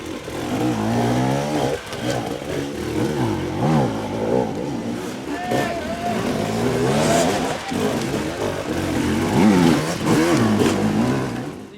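Enduro dirt bikes race on a hard enduro track in Hawaii, engines revving and wailing continuously with rising and falling pitch as several bikes pass at close to mid distance.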